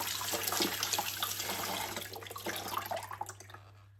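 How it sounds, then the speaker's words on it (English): Cold tap water runs and splashes steadily as porcelain china is rinsed, a fairly quiet, continuous trickle that tapers off at the end. "And then just rinse it in some cold water if you like."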